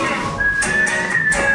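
A person whistles a sustained, slightly wavering tone that slides upward and holds, close and fairly loud, ending in a short lower note.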